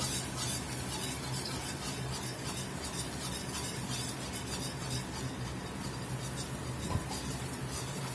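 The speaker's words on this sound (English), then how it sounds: "We're going to start getting our flour put in the oil." Flour being stirred into hot oil in a pot to start a roux for gumbo z'herbes, giving a steady scraping and soft sizzle that runs evenly throughout with no talking.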